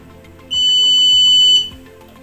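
A Kokoni EC1 3D printer sounds a single loud, pure electronic beep lasting about a second as it enters network configuration mode, with quiet surroundings before and after.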